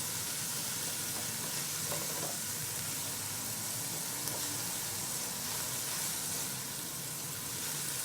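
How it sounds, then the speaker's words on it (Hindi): Vegetables for chicken chowmein sauté in a pan with a continuous, even sizzling hiss at a moderate level, with no break throughout. "ये डाल के आपने सब्जियों के साथ इसको थोड़ा सा सौटे करना है।"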